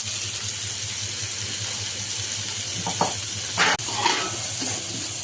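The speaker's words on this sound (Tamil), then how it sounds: "இந்தாண்ட மீன் வறுக்கிறதுக்கு தோசைக்கல்ல போட்டு எண்ணெய் ஊற்றியாச்சு" Fish frying in oil on a flat dosa griddle gives a steady, close sizzle and hiss throughout, with a few louder crackles and spits near the end.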